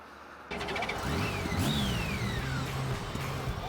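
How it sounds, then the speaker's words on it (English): A six-cylinder motorcycle engine catches and settles into a steady idle, close and fairly loud, with whining pitch sweeps rising and falling over the running motor. "Engines purring, 6 cylinders are firing"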